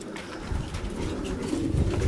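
A racing pigeon lands at a breeders' loft, with soft cooing from pigeons close by over a steady low background rumble, and no voices.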